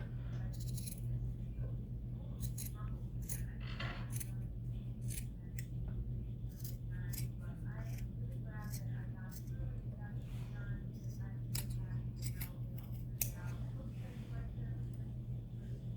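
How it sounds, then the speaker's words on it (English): Scissors snip repeatedly through the cuffed hem of a cotton band T-shirt sleeve, a run of crisp close cuts in an irregular rhythm over a steady low electrical hum. "Trim the hem off the end of the arms."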